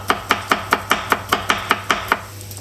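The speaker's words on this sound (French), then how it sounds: "Après, je vais continuer à le hacher avec un autre couteau." Chorizo being chopped with a knife on a board, about eleven crisp, evenly spaced chops in quick rhythm, close and clear with no talking.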